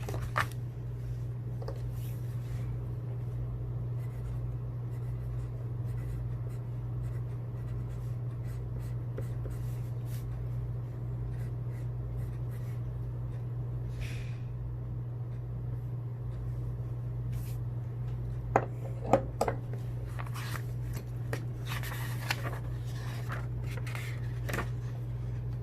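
Fountain pen strokes with Private Reserve Plum ink across Clairefontaine 90-gram paper make faint intermittent scratches over a steady low hum, with a few sharper ticks near the end.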